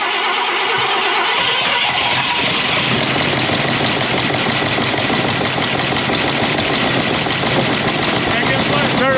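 A 1968 Ford Galaxie V8 with a flooded engine cranks and fires with the throttle held wide open, a loud, continuous close-up roar with rough knocking, while people talk over it.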